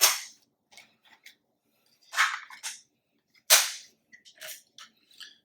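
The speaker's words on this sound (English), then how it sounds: "Take your snap caps, fire each barrel" A double-barrel shotgun dry-fired on snap caps, with a few sharp metallic clicks and snaps spaced apart, crisp and close in an otherwise quiet room.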